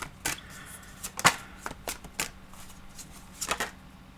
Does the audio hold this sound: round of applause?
no